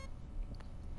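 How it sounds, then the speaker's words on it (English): A handheld thermometer item in Fortnite gives a single short, soft electronic beep, brief and quiet against a faint background hum, with no voices. "Just press it every once in a while and it'll start beeping?"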